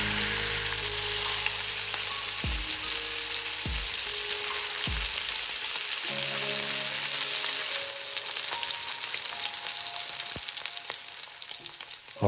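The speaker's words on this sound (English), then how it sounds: "Hear that sizzle? That's exactly what you want." A steady, loud sizzle of a wagyu sirloin steak searing in a hot pan, crackling continuously with a few soft clicks and knocks underneath.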